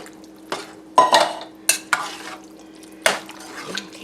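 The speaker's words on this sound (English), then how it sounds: "Okay, mix that in." Soup ingredients, including undrained canned black beans, stirred in a pot for a Mexican cheese soup, giving a few separate scraping and sloshing strokes with a spoon against the pot, close and moderately loud, no talking.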